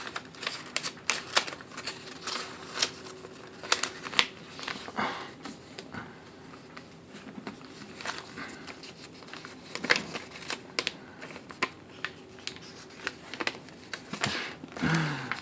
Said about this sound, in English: And I guess then you fold it in half.